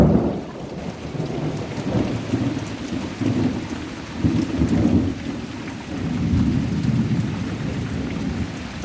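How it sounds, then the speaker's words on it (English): Heavy rain pours steadily outdoors, with deep rolling thunder swelling and fading in several waves throughout; no one speaks. "Rain, rain, rain."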